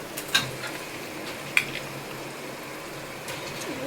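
Mutton being added to a hot pan of Muslim-style biryani base with green chillies gives a soft, steady sizzle and frying hiss, with a couple of sharp clinks of a utensil against the pot near the start.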